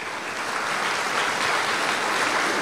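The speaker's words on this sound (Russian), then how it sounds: "Аплодисменты." A seated audience at a question session with schoolchildren breaks into steady applause, dense even clapping that holds at moderate loudness throughout with no voices.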